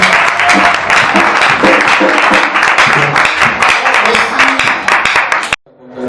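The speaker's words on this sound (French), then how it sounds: "on tient encore l'encourager avec les applaudissements" Audience applause at a training session, loud, dense clapping from many hands that carries on steadily before cutting off abruptly near the end.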